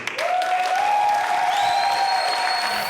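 An audience applauds in a steady, dense clatter, with a long sustained tone ringing above the clapping.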